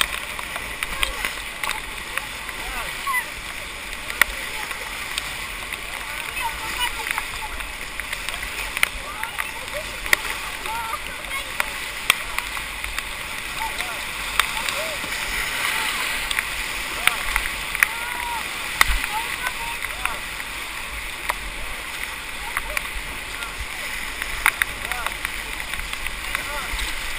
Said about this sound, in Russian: Еще гребем, чтобы на нее попасть.